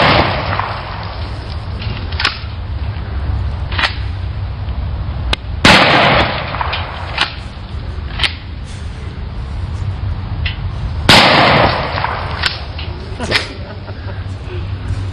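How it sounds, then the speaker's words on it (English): Loud 12-gauge shotgun blasts fired at RFID tags outdoors, with sharp reports spread across the span, several close together and two especially heavy booms, over constant wind-like background noise. "we took 150 more of them and attacked them with a 12-gauge shotgun"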